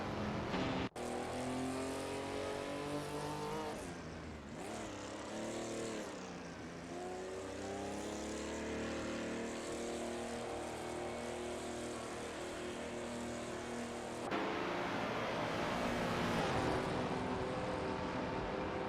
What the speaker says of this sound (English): We're currently in the middle of a racing simulation with our driven cars.